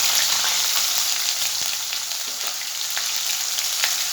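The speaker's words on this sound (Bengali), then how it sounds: "আমি এই তেলের মধ্যেই মশলা দিয়ে দেবো। 1 চামচ আদা বাটা।" Spices and ginger paste frying in hot oil for a rohu fish curry with mango, making a steady, loud, dense sizzle with faint crackles throughout and no voices.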